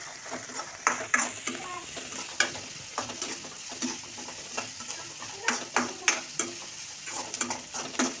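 Onion and green chili sauté in a pan for egg podimas, with a constant sizzle under frequent sharp spatula scrapes and taps against the metal, close and irregular.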